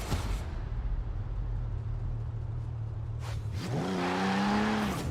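A Jaguar in Forza Horizon 4 drives with a steady low engine drone, then revs up sharply with a rising, whining tone near the end, loud and close with no talking.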